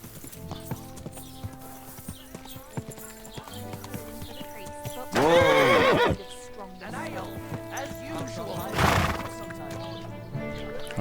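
Horses in the medieval role-playing game Kingdom Come Deliverance II give two loud, shrill whinnies amid clip-clopping hooves and snorts, while a voice talks over them.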